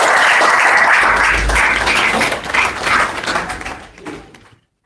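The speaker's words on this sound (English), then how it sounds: "Let's clap for him again, please." An audience at a university history society symposium gives a round of applause that is loud at first, then thins out into scattered claps and fades away.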